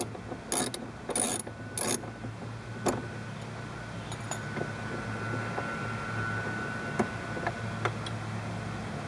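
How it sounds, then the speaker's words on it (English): A 10mm ratchet on an extension clicks in short bursts while loosening headlight motor bolts on a C4 Corvette, a few quick ratcheting runs early on followed by sparse isolated ticks against a quiet garage background. "we will use a 10mm ratchet with an extension so we can get in"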